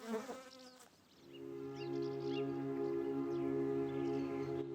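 Bees buzzing around apple blossoms, a close, steady droning hum that settles in after a brief rustling start and holds at an even level, with no voices.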